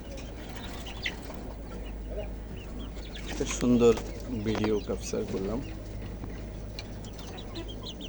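A hen squawks and clucks in a short burst of loud calls while laying an egg, with a soft voice speaking nearby over a steady low hum.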